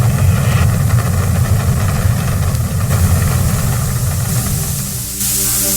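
A heavy engine running steadily with a loud, deep rumble and a hissing roar, the tone shifting slightly near the end.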